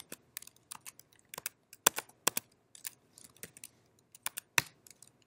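Keys clack on a computer keyboard as a sudo swapon command is typed, in a rapid, irregular run of close, crisp taps with short pauses between bursts.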